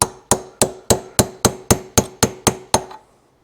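A hammer drives a small chisel to cut out the fork seal on a 1971 Kawasaki F7 Hatta, ten evenly spaced sharp metallic strikes, loud and close, each ringing briefly before the next, then silence.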